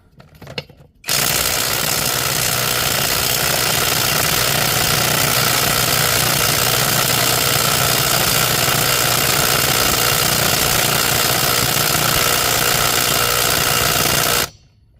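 A Bauer 20V brushless bit driver runs in reverse on the 24 mm front wheel nuts of a tractor, giving a loud, steady, rapid hammering rattle close to the microphone for about thirteen seconds before it stops.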